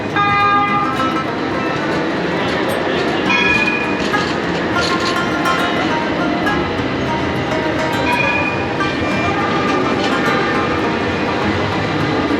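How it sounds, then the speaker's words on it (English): A tram running through Istanbul, a steady loud rolling rumble of the railcar with faint clicks and squeals along the track, continuous throughout with no speech. "You got the trams all through Istanbul, and they're easy to get on."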